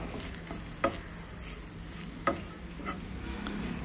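Blended onions frying in oil in a pan for a Kerala-style chicken fry, a soft, continuous sizzle with a few light clicks from a spoon stirring now and then.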